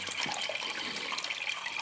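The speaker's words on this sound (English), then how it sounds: "So we got some water coming out from under this collapse. It's kind of a little waterfall making its way down." Water trickles out from under a collapse inside an abandoned tunnel, spilling down like a small waterfall, a soft, continuous splashing and gurgle with no voices.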